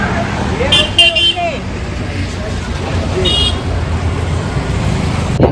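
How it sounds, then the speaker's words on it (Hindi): Traffic on a highway with a car pulling away, a steady broadband road rumble under voices talking, with a couple of short horn toots near the start. "और ये कार जा रही है।"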